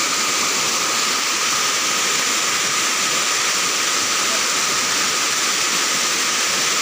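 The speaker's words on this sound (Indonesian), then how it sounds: "lagi berendam dulu di air terjun." Roar of Curug Cempaka waterfall where people are bathing, a loud, dense, unbroken rush of falling water filling the whole scene.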